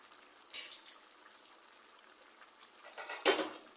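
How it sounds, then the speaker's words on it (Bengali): Chopped snake gourd and spiny gourd go into a cooking pot of dried mola fish curry, giving a few sharp clattering knocks early and a louder clunk near the end over a quiet background. "এখন আমি সবজিগুলো দিয়ে দেব, চিচিঙ্গা আর কাঁকরোল"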